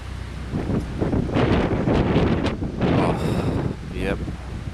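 Strong outdoor wind buffeting the microphone, loud rumbling gusts rising and falling throughout, with faint voice-like sounds mixed in.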